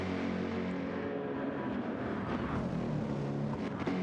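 Racing engines in Gran Turismo 7 at Mount Panorama Circuit drone steadily down the back straight, a continuous loud roar with shifting tone as cars pass.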